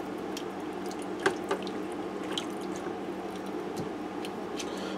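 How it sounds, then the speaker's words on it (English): Beef stew is stirred in a pressure cooker, making soft, wet squishing and dripping sounds that stay quiet and steady, with a couple of small knocks. "I'm going to give this a stir."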